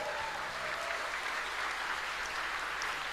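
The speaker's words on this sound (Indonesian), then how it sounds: "Maka tepuk tangan kita hadirkan Menteri BUMN Mas Erick Thohir." An event audience gives steady, even applause as a state minister is welcomed, continuous clapping heard from a moderate distance.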